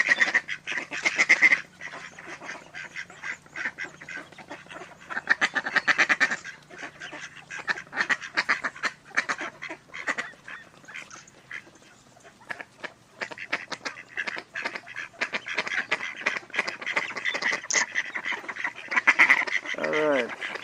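Ducks and geese gather near someone breaking bread outdoors, a lively flock of overlapping quacks and loud honks rising and falling in bursts, fairly close, with occasional talking mixed in among the calls.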